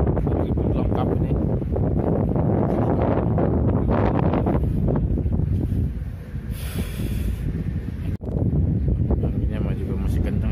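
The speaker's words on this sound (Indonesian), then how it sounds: "Anginnya juga masih kencang, sobat." Strong wind blows outdoors in Taiwan, roaring and buffeting the microphone in a loud, continuous rush that dips briefly near the end.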